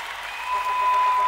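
A church congregation claps during a worship service, a short burst of massed clapping heard under a steady tone and lingering voices.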